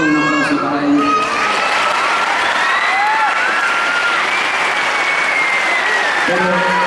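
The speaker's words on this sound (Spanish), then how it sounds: "Pido un aplauso para ellos." Theater audience applauding a musical's cast, steady clapping mixed with cheers and children's shouts, while a voice speaks briefly at the start and end.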